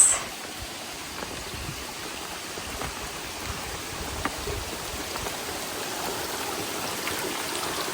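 Steady, full rush of a waterfall stream on the Agasthiyarkoodam trek, a continuous close wash of flowing water with no voices.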